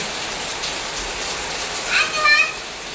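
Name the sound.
heavy rain falling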